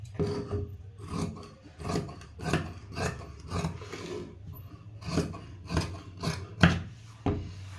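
Scissors snip through blouse fabric while cutting a size 37 blouse, giving a steady run of rasping cuts roughly twice a second, close and moderately loud with no voices.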